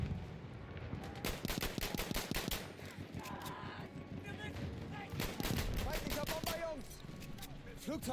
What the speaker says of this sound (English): With a pistol? Oh, those projectiles fire very slowly.